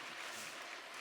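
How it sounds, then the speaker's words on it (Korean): Church congregation applauding together, a steady, dense wash of clapping filling the whole moment without pause, moderately distant and even in loudness, with no speech over it. "우리 박수로 격려 한번 하십시오"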